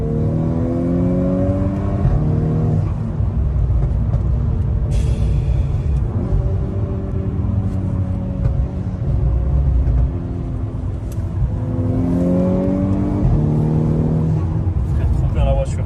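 A Volkswagen Golf 6 R engine rumbles steadily and climbs through revs several times, rising pitch sweeps repeating over a constant low drone, fairly close and loud.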